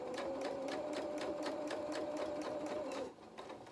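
A sewing machine stitches fabric around a donkey head at a fast, even mechanical rhythm with a steady hum, close and clear, then stops abruptly near the end, no talk.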